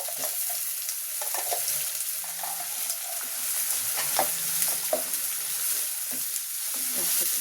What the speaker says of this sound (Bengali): এখন আমার মধ্যে পেঁয়াজ বাটা দিয়ে দিচ্ছি